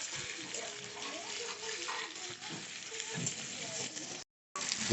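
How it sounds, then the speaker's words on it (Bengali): Onions being lightly fried in a pan for chilli chicken make a steady, close hiss of sizzling that cuts out briefly near the end and then resumes. "পেঁয়াজটাকে হালকা ভাজতে হবে খুব বেশি লাল করে ভাজলে হবে না"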